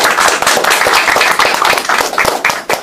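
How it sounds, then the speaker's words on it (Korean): An audience at a Korean progressive party discussion forum gives a loud burst of thanks, with sharp, close, vigorous hand claps packed together throughout. "일단 힘찬 그 감사의 박수 좀 부탁드리겠습니다"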